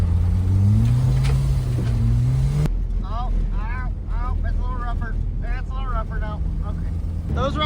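Project car Benny pulls off tarmac onto dirt with a steady engine drone that cuts out abruptly, followed by rough road noise and a series of short chirping squeaks.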